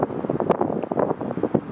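Strong wind buffets an outdoor microphone in rough, irregular gusts, producing low rumbling thumps with no voices.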